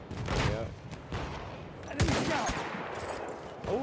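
Battlefield 1 video game gunfire in a quick series of sharp shots, fairly faint and mixed with game sounds and chatter from players.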